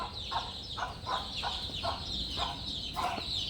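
Broody farm hens sitting on eggs give soft, repeated low clucks in a quiet coop, about eight short calls spaced fairly evenly, close and faint with no talk.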